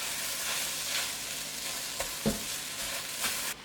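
Cauliflower fried rice with shrimp and egg is stir-fried, giving a steady, close sizzle with a few soft utensil knocks near the end and no talking.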